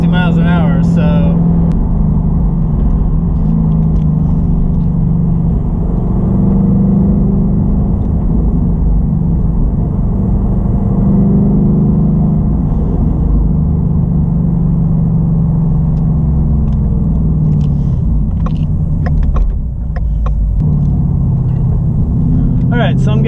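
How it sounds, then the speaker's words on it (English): Car cruising at very high speed on the German Autobahn, a steady loud road and engine rumble with wind noise running continuously throughout, with a person talking over it. "alright, so I'm getting back on the Autobahn here."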